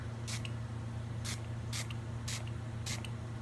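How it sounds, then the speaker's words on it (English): Five short hissing spritzes from a bottle of wet makeup setting spray, evenly spaced, close by over a low steady hum. "And I'm going to spray down."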